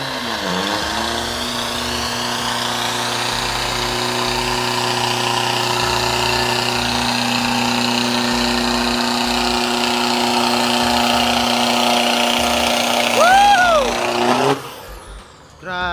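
A newly built Toyota Hilux diesel drag race truck idles loud and close with a steady droning engine note, a couple of brief whistling swoops near the end before it cuts off sharply, with voices underneath.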